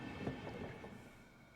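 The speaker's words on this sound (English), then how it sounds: "It seemed the train had reached its final stop." A train rolls to its final stop in the Higurashi visual novel, a low rumbling rattle of rail cars that slowly fades, faint and without voices.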